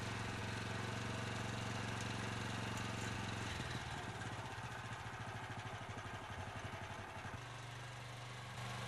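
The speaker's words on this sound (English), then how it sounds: "Engage the winch. Depress the throttle and the log will be rolled into position." Engine of an Ironhorse log winch running steadily with the throttle depressed, a loud continuous mechanical drone that shifts to a choppier, pulsing rattle partway through as the log is rolled into position.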